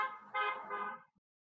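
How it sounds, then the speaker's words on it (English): A car horn honks outside on a busy A road, two sustained blasts in quick succession, fairly loud and close, then cutting off into silence. "hello, person honking on our podcast"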